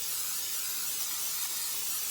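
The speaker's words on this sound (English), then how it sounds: "I'm going to go ahead and spray" Butter cooking spray hisses into a 9 by 13 pan in one steady, close burst lasting about two seconds.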